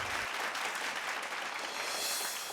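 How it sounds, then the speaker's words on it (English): Audience applause at the Share the Spotlight event celebrating women's stories, a dense steady wash of clapping held at an even level throughout with no voices over it. "A huge round of applause once again for them."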